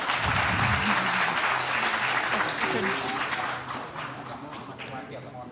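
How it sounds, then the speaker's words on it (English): Audience applause at a conference on the Indonesia-Japan partnership, a dense wash of many hands clapping that starts full and gradually fades toward the end, with some voices mixed in. "Once again, please give a big round of applause"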